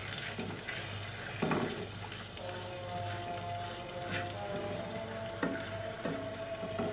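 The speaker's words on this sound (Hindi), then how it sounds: "अब हम इस मसाले को अच्छी तरह भूनेंगे" A masala of spices and tomatoes fries in a pan for aloo bharta, making a soft, low sizzle with a few faint stirring knocks and a steady background hum, with no speech.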